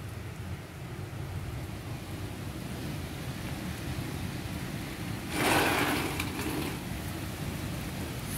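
Steady heavy rain hissing outdoors from a balcony in Toronto, constant and enveloping, with a brief louder gust of splashing midway.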